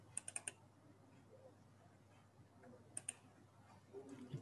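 A computer keyboard being typed on while coding a GUI program: scattered light key clicks in quick clusters, close and quiet, with pauses between bursts and no talking.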